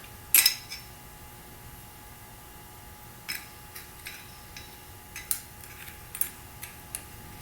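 A metal lock nut and lock washer handled on a two-stroke dirt bike during crank seal work: sparse, sharp metallic clinks and taps, one louder clack early, then scattered lighter ticks, close and otherwise quiet.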